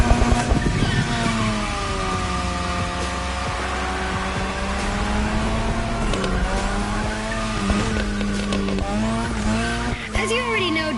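Car drifting on a drift track in a racing video game, engine revving with sustained rising and falling tire squeal for several seconds, loud and continuous, with voices underneath.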